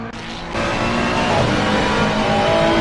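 A Ferrari 296 GT3 race car engine at Laguna Seca in a racing video game rises into a loud, sustained, revving drone after a brief quieter start, with no voices over it.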